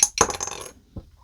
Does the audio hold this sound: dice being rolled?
yes